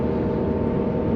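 Mercedes W201 190D diesel with a four-speed automatic, heard from inside while driving as a low, steady, fairly quiet engine drone and road hum, with no voices.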